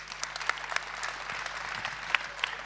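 An audience at a school event claps in a moderate, fairly sparse round of applause, with individual hand claps standing out over a soft, steady crowd bed.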